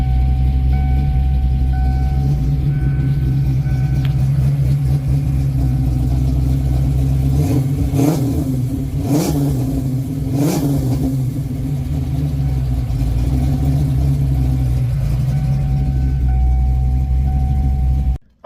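A 1995 Mustang Cobra engine idles steadily while warming up, a loud, close, low rumble with a few brief revs rising and falling midway before settling back to a constant idle, then cutting off at the end.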